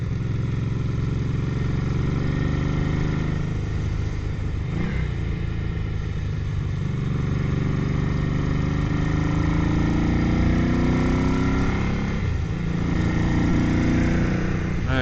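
A 1978 Ducati Bevel 900 motorcycle engine idles steadily up close, a loud and continuous lumpy low rumble with small swells in pace, and no one talks over it.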